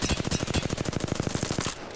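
Rapid automatic gunfire from a weapon in the shooter game Apex Legends, a steady burst of evenly spaced close, loud shots running almost two seconds before cutting off.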